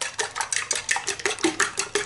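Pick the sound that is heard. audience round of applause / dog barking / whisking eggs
whisking eggs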